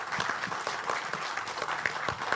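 Audience at a coding event applauds, a short burst of steady, close-sounding clapping from a group.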